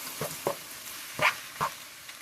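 Canned Rotel tomatoes with their juices stirred into a beef and rice skillet, heard as a few close, soft scraping and sloshing strokes over a faint sizzle, with no talking.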